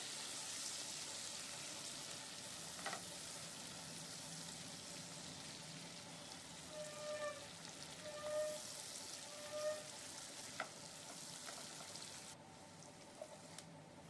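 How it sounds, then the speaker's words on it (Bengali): Potato pieces frying in a pan over lowered gas heat for a jhinge aloo chingri curry, giving a faint, steady sizzle throughout with a few soft clinks. "এবার আলুগুলো দেওয়ার পর গ্যাসের আঁচটা একটু কমিয়ে দিয়ে ভাজতে হবে"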